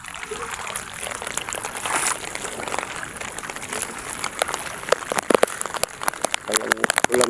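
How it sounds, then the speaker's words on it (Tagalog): Heavy rain falling by the sea, a dense hiss with close pattering drops and trickling water growing busier toward the end, while someone talks over it. "Lakas din yung ulan"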